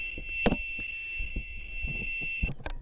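Beeping from a drilling machine: a steady high-pitched electronic alarm tone sounding continuously, with scattered knocks and clatter underneath and no talking.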